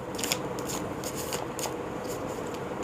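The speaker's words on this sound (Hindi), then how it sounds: "एक बार और शफल करते हैं" Tarot cards being shuffled by hand in a series of quick, rhythmic riffling bursts, close and crisp, with no talking.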